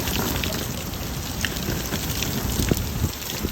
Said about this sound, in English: Oh gosh, it's cold. The rain's cold. It's so windy.